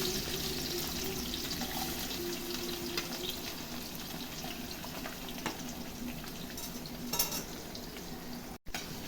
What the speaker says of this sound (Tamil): இப்போ இதை நல்லா கலந்து விட்டுக்கலாம். நம்ம அது நல்லா வதங்கட்டும் கொஞ்ச நேரம்.